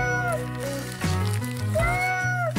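A young girl imitating a cat, giving two drawn-out, sliding vocal meows with a short pause between them, close and fairly loud.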